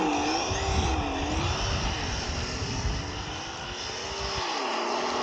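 Team Associated SR7 1300kv RC car driving at half throttle on a wet track, a steady high-pitched electric motor whine that rises and falls slightly, continuous and fairly close with a constant rushing undertone.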